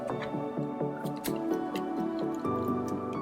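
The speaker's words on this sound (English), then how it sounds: "What I've got here is just a toothbrush with glass cleaner on it." A toothbrush wet with water-based glass cleaner scrubs a liquid-damaged Toshiba L50 laptop connector in quick, repeated close strokes, giving short wet, scratchy bursts in an uneven rhythm.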